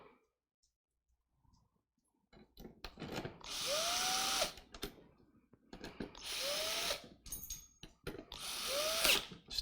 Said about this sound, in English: got to put the screwdriver in the right direction